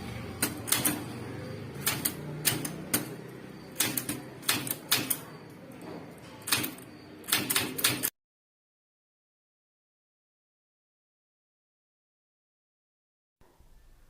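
Close, crisp typewriter keystrokes clack in irregular bursts during English typewriting practice for about eight seconds, then everything goes silent before a faint clatter returns at the end.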